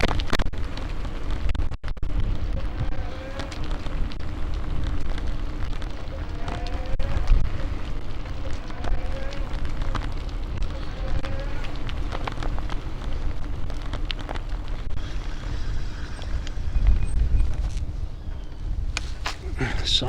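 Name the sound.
strong wind blowing while riding a bike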